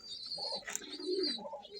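A pigeon coos softly and close by in a loft, giving a few low, rounded coos with faint chirpy background bird sounds and no talk.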